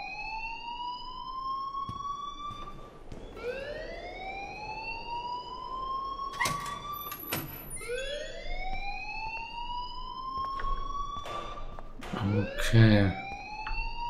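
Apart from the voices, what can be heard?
alarm ringing in the video game Life Is Strange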